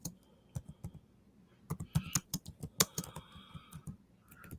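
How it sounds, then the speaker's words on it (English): Fingers tap on a computer keyboard in uneven bursts of sharp, close clicks with brief pauses between them. "Hold on. I'm just typing."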